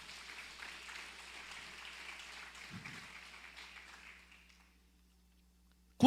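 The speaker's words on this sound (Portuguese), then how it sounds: "Mais um aplauso para o Senhor aqui." Applause from a church audience for a sermon, a soft, distant wash of many hands clapping steadily under a low room hum, fading out over several seconds and then going quiet.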